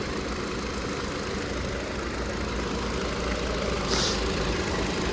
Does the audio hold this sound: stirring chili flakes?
no